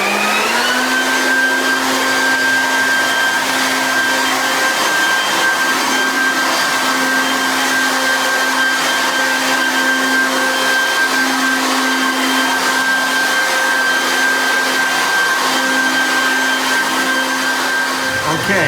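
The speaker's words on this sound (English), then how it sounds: "now we're just gonna get all the residual with the blower" A blower clears leftover dust from a floor after vacuuming, during an epoxy floor coating job, running as a loud, steady whine with a constant tone that continues without a break.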